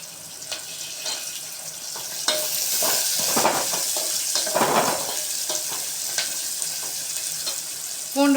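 Garlic sautéing in a pan for pudikarunai puli kulambu makes a continuous close sizzle, with scraping stir strokes that swell in the middle and then settle back into the frying hiss.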